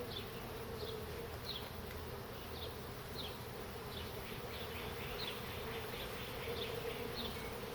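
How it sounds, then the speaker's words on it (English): Bees buzz steadily and softly up close, a continuous drone with individual insects whirring past now and then. "We're just going to brush some of the bees into the hive, into the jar."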